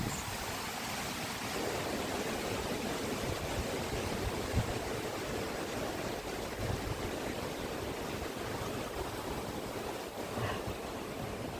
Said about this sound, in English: I'll show you this river real quick